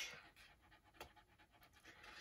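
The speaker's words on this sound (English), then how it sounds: "Sorry if you can hear Millie panting." A dog pants quietly in quick, rhythmic breaths nearby in an indoor room, faint but steady throughout.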